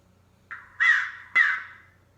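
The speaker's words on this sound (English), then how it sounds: "And it is a crow." A single crow gives three harsh caws, one short and two longer and louder, close and clear against a quiet background.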